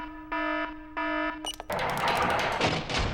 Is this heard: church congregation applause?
no